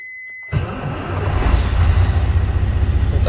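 A Kenworth T2000 truck engine cranks and catches after a brief quiet, then settles into a loud, deep, steady diesel rumble that builds slightly as it keeps running.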